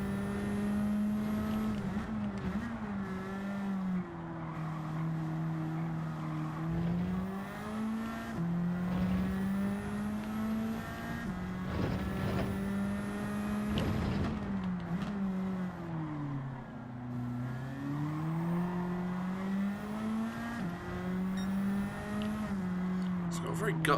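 In a racing video game, the turbocharged engine of a Nissan Silvia Spec drones steadily, its pitch rising and falling through gear changes and revs, with faint tire noise and someone talking over it throughout.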